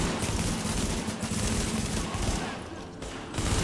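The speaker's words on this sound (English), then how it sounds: "Oh, this shotgun is fucking awesome." Rapid bursts of gunfire in the video game The Division, a shotgun firing repeatedly in a dense, fairly quiet barrage over background game sound.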